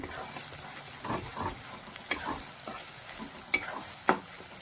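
A moong dal filling is sautéed in a pan with a soft, quiet sizzle, punctuated by scraping stirs and a few sharp utensil taps toward the end; no one speaks.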